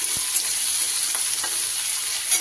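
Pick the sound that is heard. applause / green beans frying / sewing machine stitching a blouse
green beans frying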